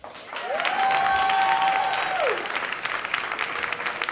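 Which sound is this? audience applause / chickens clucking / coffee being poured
audience applause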